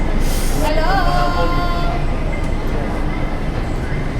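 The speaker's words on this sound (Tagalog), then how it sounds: "So we're gonna ride a train so we could arrive on our gate." Steady, loud rumble of an airport train carrying passengers to the gates, with a brief rising whine and a voice heard faintly over the constant rolling noise.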